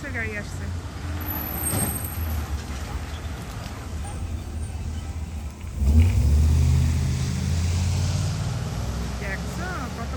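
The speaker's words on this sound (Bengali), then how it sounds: "এই যে ফেডেক্সের গাড়ি আসছে" A large FedEx courier delivery truck drives past on a road beside woods, its engine rumble rising suddenly midway and staying loud and close as it passes, with outdoor background noise before it arrives.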